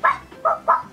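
Toy dog from a farm animal set giving three short electronic barks in quick succession, loud and close, alone.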